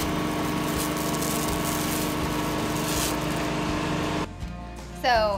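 A truck-mounted carpet extraction system runs as a loud, steady engine-like drone for about four seconds, then drops sharply, leaving a quieter hum with a brief rising whine at the end.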